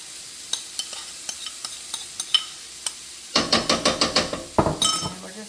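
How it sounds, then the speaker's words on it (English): A utensil scrapes and clacks in a pan as steak bites and Yukon Gold potatoes are stirred, starting with sparse light taps and turning into a dense run of rhythmic scraping strokes over faint sizzling. "We're going to go ahead and add our steak back in there. Kind of stir it around."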